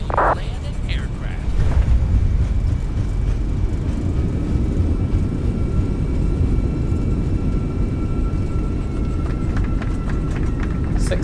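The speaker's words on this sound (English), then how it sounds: "Touchdown. And reverses." An Airbus A320 touches down in Microsoft Flight Simulator 2024, then a loud, steady roar of reverse thrust builds and holds with a whining engine tone, while a voice speaks briefly near the start.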